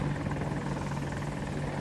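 Several AH-64 Apache attack helicopters in a Battlefield-style match on the Hourglass map give a constant, loud rotor thrum with a low droning hum, steady and unbroken throughout.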